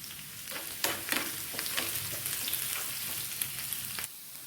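Dried red chillies and curry leaves sauté in hot oil for a papaya pachadi tempering. A steady close crackling sizzle with sharp pops runs for about four seconds, then drops away abruptly.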